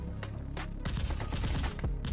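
12.7mm heavy machine gun fire, like a .50 cal, in a dramatic action scene: dense, rapid bursts of loud, rattling shots hammer continuously over a short stretch, close and forceful.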